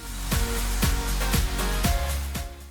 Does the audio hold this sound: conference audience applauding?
no